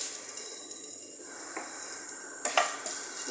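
Ginger frying in hot oil in a pan for a kinamatisan fish dish, a steady bright sizzle with a couple of brief utensil clinks near the end, and no voices.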